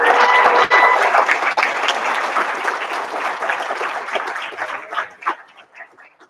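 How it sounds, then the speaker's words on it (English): High school senior awards audience applauds winners, a loud dense burst of clapping that gradually thins into scattered individual claps before fading out. "Let's give another big round of applause to all of our winners."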